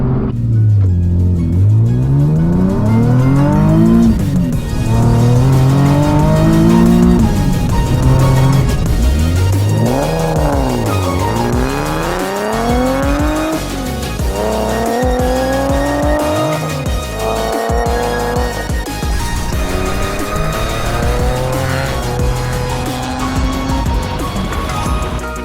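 A tuned car accelerates hard through repeated gear pulls, the loud engine note climbing and dropping with each shift, close and dominant, with revving sweeps all the way through.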